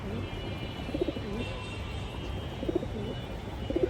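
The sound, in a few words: pigeons in a loft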